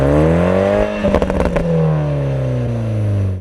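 A BMW Z4 exhaust revving: a loud, close engine note climbs and falls in a throaty sweep, with a brief crackling burst midway, then holds a steady drone before cutting off.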